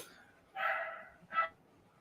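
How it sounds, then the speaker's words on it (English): A dog barks twice, a longer bark followed by a short one, fairly close against a quiet background. "my dog's barking, so I'm trying to like filter out the noise."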